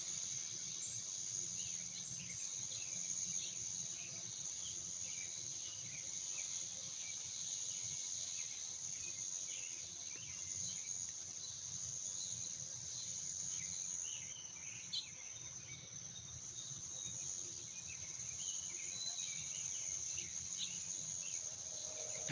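Cicadas calling in the evening, a continuous high, shrill buzzing drone that runs unbroken throughout at a moderate distance, with a faint bird call or two rising briefly above it.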